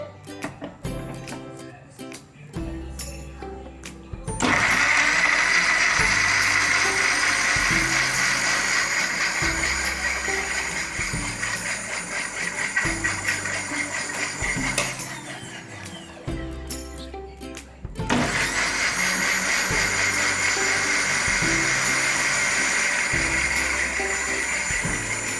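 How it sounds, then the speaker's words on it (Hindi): A kitchen blender whirs through peach juice in loud, sustained runs, starting after a few seconds, pausing briefly, then starting again, with some clattering around it. "अब हम इसको कर लेते हैं ब्लेंड।"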